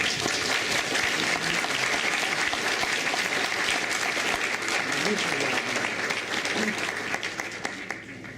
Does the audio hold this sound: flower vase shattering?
no